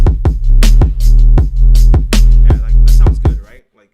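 An electronic track plays back in FL Studio, with punchy drum hits locked to a deep sub bass in a steady groove, loud and close, before stopping abruptly near the end.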